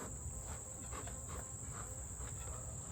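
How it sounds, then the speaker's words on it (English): Bees buzzing on the ledge at the front of a beehive, a steady close drone that continues throughout, with a constant high whine above it. "there's a lot of bees on the ledge here"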